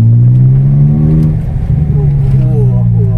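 A Datsun Go Panca Plus T Active with a rally-look modification revs its engine while pulling away, a loud, close, steady drone whose pitch climbs toward the end.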